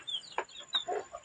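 A caged chicken clucks close by in a few quick, short bursts of soft, bright calls with brief gaps, fairly faint overall.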